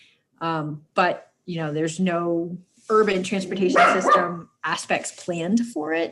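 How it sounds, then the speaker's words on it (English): A pet dog barks at home during an online planning meeting, a few sharp barks mixed in with someone talking close to the microphone. "Sorry about my dog."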